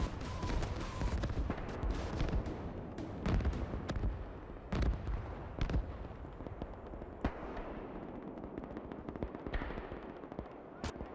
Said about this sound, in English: Heavy mortar back here.